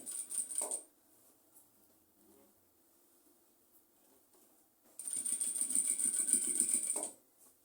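A sewing machine stitching a round collar runs in two bursts, a short one at the start and a longer steady whirring run later, with quiet pauses between.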